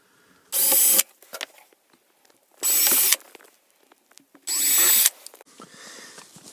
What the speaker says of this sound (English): So I'm going to pre-drill these because there's very little material there.